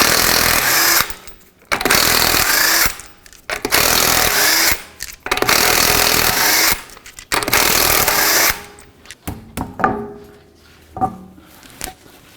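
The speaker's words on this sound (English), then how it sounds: "19mm socket, remove off of your lug nuts, and then take the wheel off." Lug nuts on a 2004-2008 Acura TL come off with a 19mm socket on a power tool, about five loud, close bursts of whirring rattle separated by short pauses, then quieter clinks and metallic handling noises.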